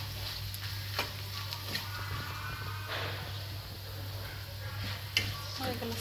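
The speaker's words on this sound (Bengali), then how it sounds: "একটু মশলা দিয়েছি, এখন চিপসটা দিয়ে ভেজে ফেলব" Potato chips frying in hot oil with spices, a continuous sizzle with occasional sharp clicks and scrapes from stirring, close and fairly loud.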